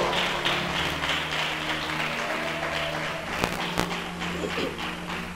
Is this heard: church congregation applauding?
yes